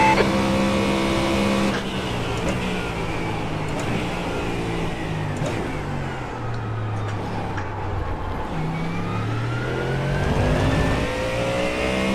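Mustang GT3 race car engine at full throttle in iRacing at Navarra, a loud continuous snarling drone with rising and falling pitch as it shifts gears, alone and close throughout.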